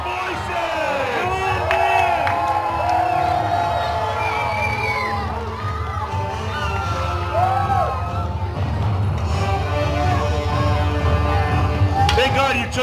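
Crowd cheering and shouting for a knight at a Renaissance faire joust, many voices whooping and yelling continuously, loud and close, with shouted calls mixed in.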